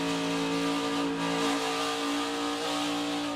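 NASCAR stock cars race at Darlington late in the race, with a loud, steady, high-pitched engine roar from cars running closely together, sustained without a break.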